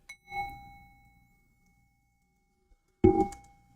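A gentle bell rings twice in a quiet room, each a soft clear strike with a sustained, slowly fading tone, separated by nearly two seconds of silence.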